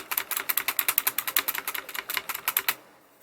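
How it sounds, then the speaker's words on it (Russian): Rapid typing on a HyperX mechanical keyboard: a steady run of about two dozen crisp, close keystrokes in a quick even rhythm, with no talk, ending abruptly in near silence. "А вот звук на клавиатуре HyperX."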